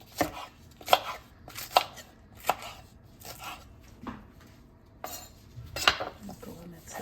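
A knife chops an onion on a cutting board in a home kitchen, a series of crisp, close, fairly quiet strikes with short pauses between them.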